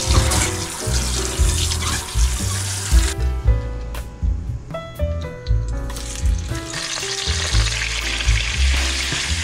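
Boiling water is poured off a pot of ribs cooked with salt and ginger, a rushing splashing pour at the start and end with clinks and knocks of the pot in between, close and fairly loud.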